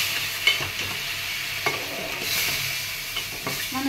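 Wheat semolina halwa with sugar is stirred in a pan, a continuous soft sizzle under repeated scraping strokes of the spoon, close and steady, with no speech.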